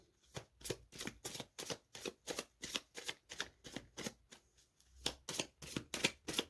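Tarot cards are shuffled by hand, a close, steady run of about twenty crisp riffling bursts in an even rhythm with a brief pause near the middle, with no talk over it.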